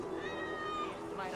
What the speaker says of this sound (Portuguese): E tem um gato aqui.